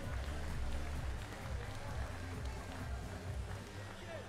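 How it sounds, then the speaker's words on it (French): Crowd applause at a dairy cattle show after the best young udder cow is named, a dense, steady wash of clapping from a sizeable audience with faint voices mixed in. "On peut applaudir bien fort cette meilleure mamelle jeune"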